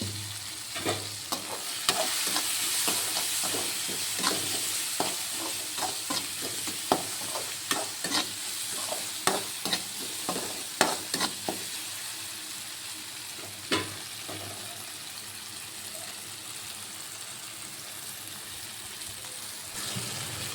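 Tomatoes with turmeric and asafoetida sautéing in a pan, a soft continuous sizzle broken by repeated scraping and clacking stirring strokes, the stirring busiest early then fading to a steadier hiss, with no talking.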